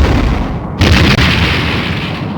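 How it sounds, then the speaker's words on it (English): Enemy ship self-destructing in a Star Trek space-combat game: a loud, sudden booming blast that swells in and rumbles on as a long, roaring decay. "The enemy has engaged its self-destruct sequence."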